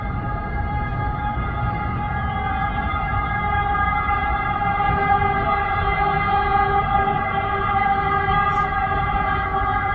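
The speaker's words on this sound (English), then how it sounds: "now the siren of ambulance." An ambulance siren in the street, a couple of blocks away or across the road, holds a steady wailing tone for the whole stretch with no talk over it.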